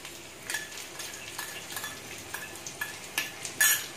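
Brinjal paste goes into a hot frying pan for an Assamese brinjal curry, a low sizzle under a series of sharp scraping and clinking stirs that grow louder toward the end.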